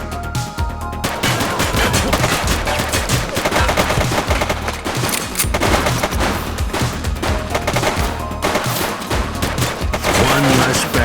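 A suspect opens fire in the police game The Precinct, rapid loud bursts of automatic gunfire chattering almost continuously, with brief gaps and repeated volleys close up.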